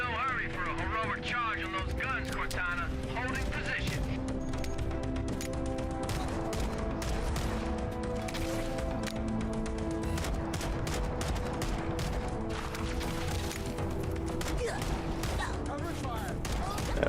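Pistol and magnum gunfire in a video game, a dense run of sharp shots and bursts layered with game effects and music, steady and loud throughout, with talk over it.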